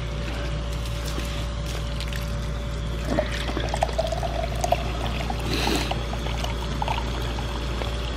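Water pouring through a Harbor Freight paint spray gun to rinse out water-based paint, a steady continuous wash of flowing liquid with a few small clatters over a constant mechanical hum.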